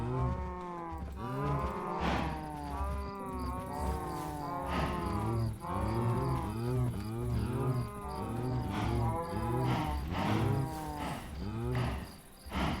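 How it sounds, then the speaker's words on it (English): Several cows in a Minecraft modpack moo repeatedly, overlapping drawn-out calls that fill the scene loudly and continuously, with a faint high insect-like chirp running underneath. "cows."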